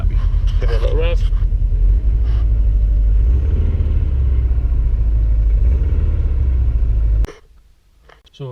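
GC8 Subaru Impreza WRX RA engine idling with a deep, loud rumble and a brief lift in revs, a voice speaking over it early, then the engine cuts off and leaves near silence.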